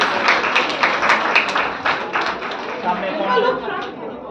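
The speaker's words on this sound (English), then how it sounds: "Big round of applause for them." Applause from an awards-ceremony audience for honoured single women, a crowd of hands clapping loudly at first and then thinning, with voices chattering underneath.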